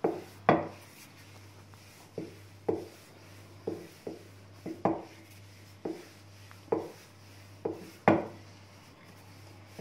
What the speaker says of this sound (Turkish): Hiç açmayı bilmeyen arkadaşlar için merdane ile açacağım.